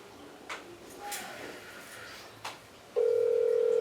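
A telephone call goes unanswered: faint clicks and handling noises, then at about three seconds a loud steady ringback tone starts and holds to the end.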